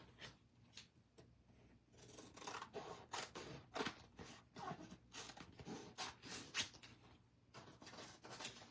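Scissors snipping paper for a scrapbook journal, a close, quiet series of irregular crisp cuts and rustles with no talking.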